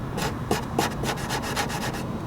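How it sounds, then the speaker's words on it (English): Sandpaper rubbing across a damaged carbon fiber surface in a cheap repair, a close, steady run of short scratchy strokes at a fairly even rhythm, with no talking. "taking sandpaper to your carbon fiber"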